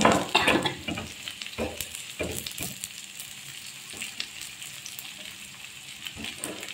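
Squid adobo with ginger sizzles in a frying pan while being stirred, with clattering utensil strokes over a soft continuous frying hiss, close and fairly loud at the start.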